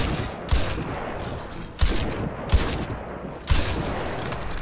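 Gunfire in the Crysis 2 video game crackles in dense, steady bursts with several louder sharp shots standing out, loud and continuous throughout with no pauses.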